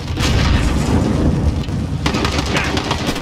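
Gunfire in a Call of Duty Warzone trios match: heavy booming shots and rapid bursts crowd together, loud and close, with a dense rumbling wash that briefly dips before more sharp reports rattle out.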